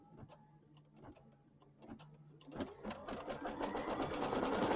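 A sewing machine runs a tack down stitch on quilting fabric, starting with a few slow, ticking stitches and a pause, then speeding into a steady, louder whirring run up close.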